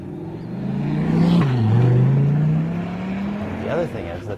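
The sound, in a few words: 2014 Corvette Stingray C7 and 2013 Viper SRT drag racing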